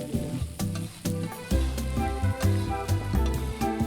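Ingredients stir-fried in a fresh pan of hot oil, with a loud crackling sizzle under a steady tonal hum and repeated rhythmic spatula strikes against the wok.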